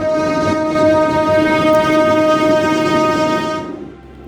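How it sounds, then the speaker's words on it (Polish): A rail draisine rumbles loudly through a railway tunnel cut in hard basalt rock on line 283 near Jelenia Góra, a steady droning roar with ringing tonal overtones that fades out at the end. "zanurzamy się w chłód, a wokół nas zaczyna dudnić drezyna"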